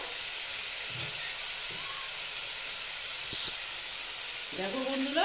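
Spice paste frying in a pan for a Bengali chital fish curry gives a steady, moderate hiss and sizzle throughout, with a faint voice briefly speaking near the end.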